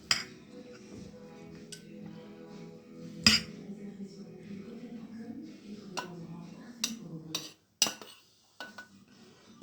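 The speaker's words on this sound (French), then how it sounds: "À l'aide d'une cuillère à soupe, vous allez remplir la moitié" Soup spoon scooping plain white rice into a small bowl while plating fish with lemon sauce, giving scattered light clinks and taps of metal on dishware, some sharp and close, between quieter scraping moments.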